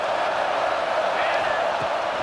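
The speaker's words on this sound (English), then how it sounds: "This crowd knows when to bring it." Stadium crowd in the EA Sports College Football 26 video game, a broad continuous roar of cheering fans during a red zone play, steady and loud with no clear breaks.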